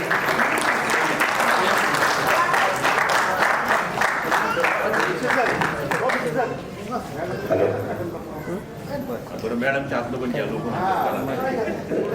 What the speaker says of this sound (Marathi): टाळ्या कमी पडायच्या नाही, जोरदार झाल्या पाहिजे